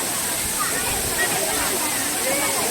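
A waterfall on DingHu Mountain in China roars as a constant, dense rush of falling water, loud and close, with no pauses.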